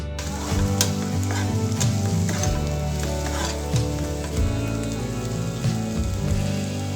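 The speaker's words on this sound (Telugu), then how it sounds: "టమాటో ముక్కలు వేసిన తర్వాత మూత పెట్టి బాగా మగ్గనివ్వాలి." Pieces of ridge gourd and tomato fry in a pan with a steady, close crackling sizzle that lasts the whole time, over a tonal musical background and without speech.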